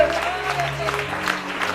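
Hands clap steadily across a church congregation, a thick wash of applause with a faint tonal drone underneath and a voice briefly audible amid the crowd.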